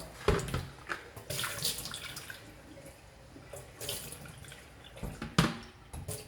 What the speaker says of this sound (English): So I'm going to pour this juice into my big white pan here.